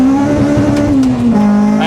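A naturally aspirated 282 bhp Honda Civic track car revs hard toward its limiter, a loud close engine note that climbs, dips briefly, then surges again with no talking over it.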